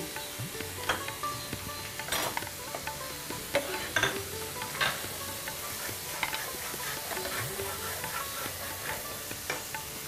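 Onions frying in a pan for a Bengali prawn malai curry, with ginger paste added and stirred in: steady soft sizzle under repeated spoon scrapes and clinks against the pan, no voices.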